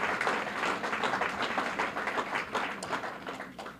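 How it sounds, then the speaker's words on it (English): Audience applause at an award presentation for an arts academy foundation, a sustained round of clapping from a crowd at moderate loudness with no speech over it. "I will welcome the applause for our team"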